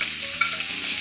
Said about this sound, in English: Oh my God, you hear that sizzle?